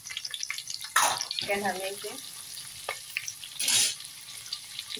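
Green chilli and ginger fry in a pan of pulao base, a steady low sizzle running throughout with a couple of louder bursts of hiss and stirring, while someone talks over it.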